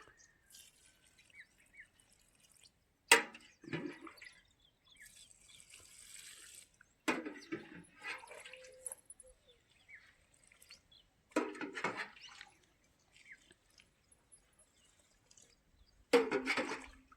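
Water poured onto newly planted brinjal and chilli plants in a garden, arriving in separate short splashing bursts with quiet gaps between them, close and moderately loud.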